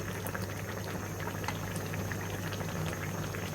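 Drumstick stems boiling in a pot of water for a mustard curry, giving a dense, even bubbling roar that stays close and constant throughout, with no voices.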